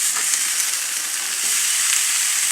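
8oz NY strip steaks sizzle loudly and steadily in a hot pan just after being flipped, a dense continuous hiss up close with faint crackling pops.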